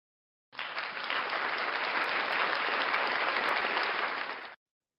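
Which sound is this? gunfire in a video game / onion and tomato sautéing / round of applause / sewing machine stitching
round of applause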